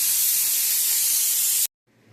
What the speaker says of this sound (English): Now let's use this air compressor, dry it off.